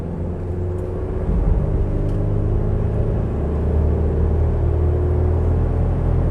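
A 2013 Chevrolet S10 LTZ Flex 4x2 manual pickup accelerates hard coming out of a curve, a steady low engine drone and road rumble heard from inside the cab.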